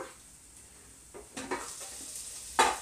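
Chopped onions go into a pan with other ingredients for a baked-dough recipe, giving soft stirring scrapes and a light sizzle that build over a few seconds and end in a sharper clatter.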